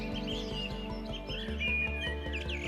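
Birds chirping in the Serengeti grasslands of Tanzania, with bright overlapping tweets and calls heard over a steady, dense background hum.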